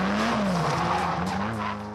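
A car drifting on a street in the Japanese underground drift scene, tires squealing in a long wavering screech over engine noise, loud and close for about two seconds.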